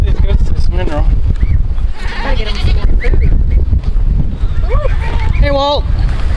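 Several goats bleat loudly and repeatedly close by, their wavering cries overlapping amid wind and outdoor noise.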